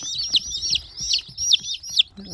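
A hen clucks in a series of short, close, repeated calls, with soft background noise between them.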